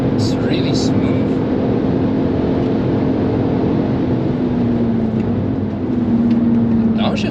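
The VR6 engine of a Mark IV Volkswagen Golf drones steadily from inside the car while it is driven on the Nürburgring, a smooth, loud, continuous hum with a slowly shifting pitch.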